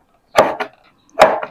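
Two close, crisp knife chops on duck meat for Isan duck larb, each a double knock against a wooden board, with a short pause between them.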